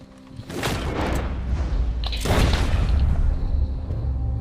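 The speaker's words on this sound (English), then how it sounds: "Nossa, que tiro, hein, velho" A single loud gunshot in Red Dead Redemption 2 booms at about half a second, its echo rolling on, then a second heavy blast hits near two and a half seconds and decays slowly into a low rumble.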